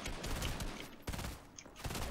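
Rapid automatic gunfire from the video game Fortnite crackles in dense, loud bursts, with a brief pause near the middle before the shooting resumes.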